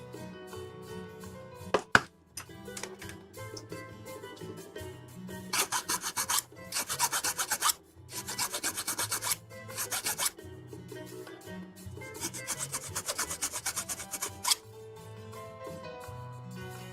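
Plastic parts from a 1/144 HG Bandai Gundam Masurao model kit are trimmed and filed in loud, close rasping bursts, several long strokes with gaps between them. A sharp click comes early on, and faint background music plays underneath.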